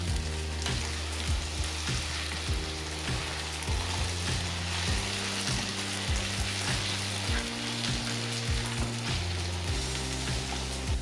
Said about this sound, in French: Attendez 1 minute pour que les pommes de terre se grillent un peu.